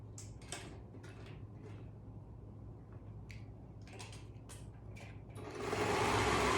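A sewing machine stitches around the curve of a dolman top in short, separate bursts of running, then speeds up into a louder, steady whir near the end.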